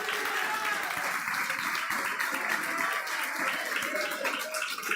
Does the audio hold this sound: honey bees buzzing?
no